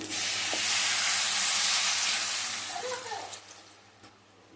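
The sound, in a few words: water added to hot chicken curry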